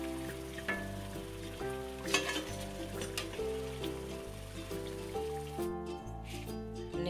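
Sabudana vada fry in hot oil, a steady, soft sizzling crackle running continuously beneath background music, close and fairly faint.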